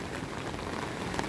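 Steady rain falls in Tainan, Taiwan, a dense even hiss of drops on surfaces that holds at one level throughout, with no voices.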